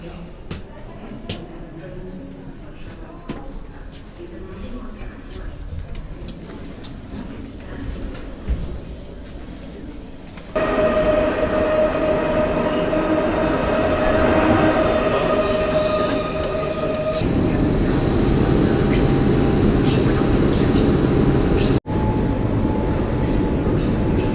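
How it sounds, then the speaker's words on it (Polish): Night sleeper train pulling into a Polish station platform at night, a loud steady rumble of railcars with squealing wheels and a high tonal whine, alongside platform announcements and nearby talk. "Wjedzie na tor pierwszy przy peronie drugim."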